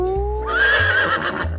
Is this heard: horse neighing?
yes